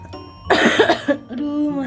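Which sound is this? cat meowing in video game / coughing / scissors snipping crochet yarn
coughing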